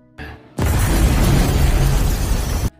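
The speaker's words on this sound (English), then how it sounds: "a grenade is detonated and he is killed as well" A grenade detonates in a war-movie scene, a loud, sudden blast that lingers for about two seconds as a dense, roaring rumble before cutting off sharply.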